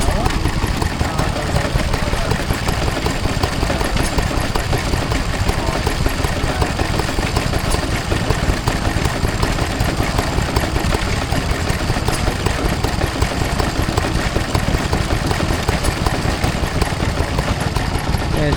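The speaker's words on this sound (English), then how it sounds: "We see a Lister D powering a flour mill of Corbett's." A Lister D stationary engine drives a Corbett's flour mill at a country show, its steady close thumping running loud and unbroken with constant mechanical rattle.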